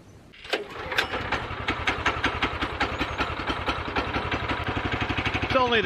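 A sawmill's engine cranks and catches on its second start of the year, then settles into a loud, steady, rhythmic idle with regular firing pulses close by.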